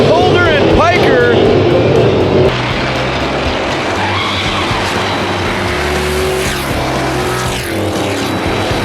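Race cars in a 2016 racing-series wreck spin and skid around a track, loud engine roar with tire squeal and skidding sweeps, while an excited commentator talks over the action.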